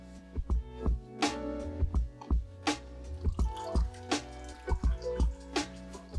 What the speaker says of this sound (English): I think it's easier if I just fill up the tank with water first